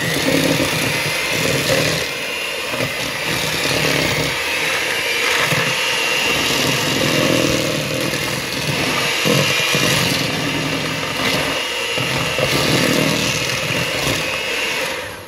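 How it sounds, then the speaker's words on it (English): An electric mixer whirs steadily on a low setting as it beats butter and sugar for a cake, a continuous loud motor drone with slight fluctuations as the beaters work through the mixture, no talking. "I'm going to beat the butter and the sugar on a low of 1"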